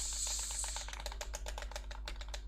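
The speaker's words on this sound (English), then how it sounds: "Right, perfect, lovely typing." Rapid keystrokes on a computer keyboard, a steady run of crisp clicks close up over a low constant hum, with no one talking.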